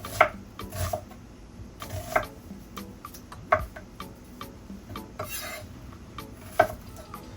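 Vegetables sliced on a cutting board, with a knife tapping in irregular, sharp close clicks and light scraping between strikes over a quiet background.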